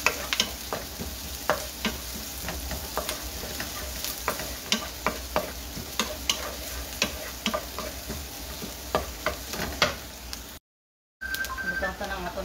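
Garlic sautéing in a pan for coconut-milk mung bean stew, a continuous sizzle broken by regular scraping taps of a utensil stirring, with a brief gap near the end.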